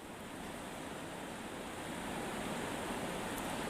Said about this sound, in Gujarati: જાબાળ ગામની નદીમાં પૂર આવ્યું